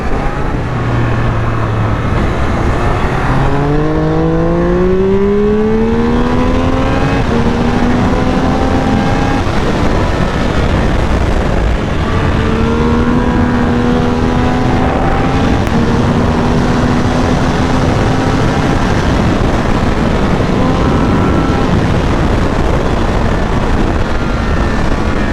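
A 2022 Triumph Speed 1200 RR motorcycle engine on the move, loud and close, rising and falling through several revving pulls and gear changes over steady wind rush, with no talk.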